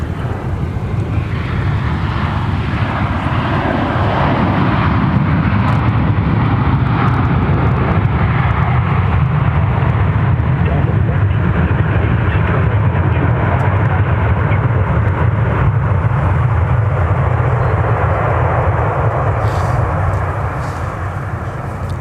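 A Boeing 737-900ER airliner arriving at Minneapolis–St. Paul Airport after a flight from Las Vegas gives a loud, sustained engine roar that holds steady and then eases slightly toward the end.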